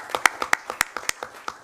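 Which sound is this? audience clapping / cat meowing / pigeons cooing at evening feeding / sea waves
audience clapping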